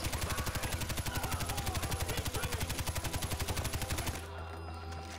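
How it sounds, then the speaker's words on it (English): Rapid automatic gunfire from the video game Far Cry, a steady unbroken burst of evenly spaced shots running loud for about four seconds before cutting off to quiet background ambience. "I shot him through the tree"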